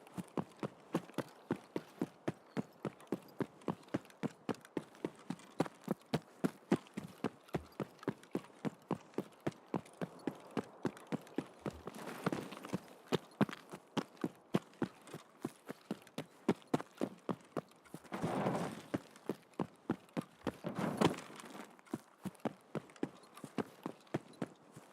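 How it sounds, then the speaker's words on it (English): Steady, rhythmic footsteps in a sniping video game thud in a fast, even cadence for the whole stretch, with a few louder swells of noise breaking in midway. "I just heard footsteps"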